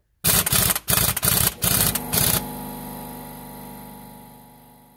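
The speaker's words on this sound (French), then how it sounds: "Donc là j'ai réussi avec la boulonneuse à desserrer mes 6 vis." Pneumatic impact wrench loosening the flywheel bolts on a Golf 6 2.0 TDI during a clutch replacement: several loud rattling bursts in the first two seconds, followed by a steady air compressor drone running in the background.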